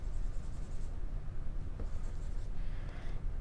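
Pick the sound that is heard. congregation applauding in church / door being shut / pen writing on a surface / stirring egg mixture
pen writing on a surface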